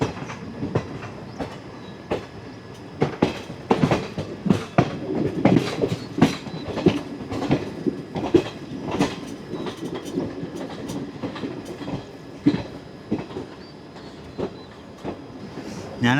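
A moving passenger train on the Mysuru to Hubballi route, heard from inside, gives a steady clickety-clack of wheels over rail joints with rumbling and rattling, at a moderate level throughout.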